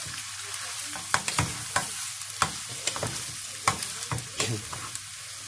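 Tomato, chicken and chorizo pasta is stirred in a hot pan, with a steady sizzle beneath repeated scraping and clacking strokes of the spoon against the pan, close and moderately loud.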